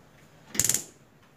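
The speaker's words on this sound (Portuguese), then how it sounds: "Vou estar ligando aqui o meu fogão em fogo baixo." Gas stove being lit for low heat in a home kitchen, a quick burst of about five sharp igniter clicks close by, then quiet.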